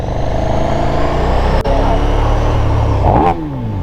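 A 2022 KTM 1290 Super Duke R revs hard at night, a loud, close engine roar with booming airbox intake noise that swells, dips briefly, then climbs again before easing off.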